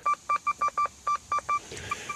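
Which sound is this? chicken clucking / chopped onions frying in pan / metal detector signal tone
metal detector signal tone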